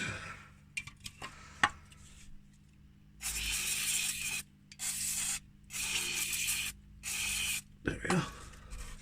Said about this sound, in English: give it a bit of plus gas anyway